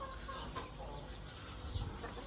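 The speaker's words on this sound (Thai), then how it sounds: "อันนี้เป็นพ่อไก่นะครับ" Chickens and a rooster cluck faintly in a farm coop among breeding hens and chicks, sounding as scattered low calls over a steady background hiss.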